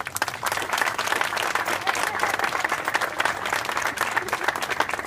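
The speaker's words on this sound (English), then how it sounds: "I think we all owe them a great round of applause" A crowd applauding steadily at an outdoor plaza grand opening, dense clapping that fills the whole stretch at an even, fairly loud level.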